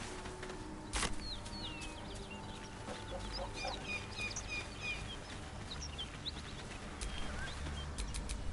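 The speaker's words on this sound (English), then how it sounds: "I'm afraid you'll have to content yourself with vagrant chickens." Vagrant chickens in the video game Baldur's Gate 3, clucking and chirping faintly over a steady outdoor ambience, with a sharp knock near the start and brief taps near the end.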